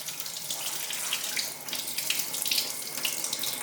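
Water pours steadily from a tap into a vessel of soaked rice in a home kitchen, a continuous close splashing rush with no voices.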